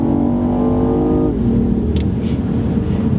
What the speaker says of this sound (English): as soon as I put my foot down, watch. Gas motor.